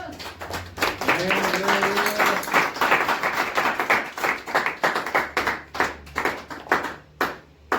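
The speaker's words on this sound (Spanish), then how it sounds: "Demos ofrenda de palmas al Señor" A church congregation claps hands in praise, the applause full at first and then settling into sharper rhythmic claps toward the end, with a brief voice rising early on.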